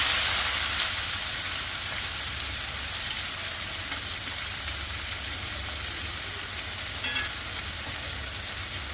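Finely chopped onions sautéing in oil with a pinch of hing, a constant dense sizzle with a few faint clinks from stirring, heard up close without speech.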